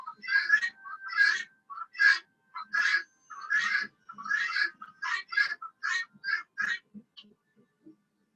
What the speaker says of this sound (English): the guineas are right outside the door